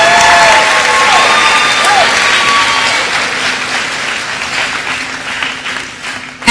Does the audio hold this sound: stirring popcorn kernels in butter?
no